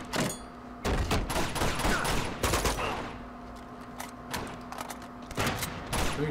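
Rapid gunfire in the video game Uncharted: Among Thieves, dense automatic bursts and overlapping shots that come in waves over several seconds, loud and close, with no talking over it.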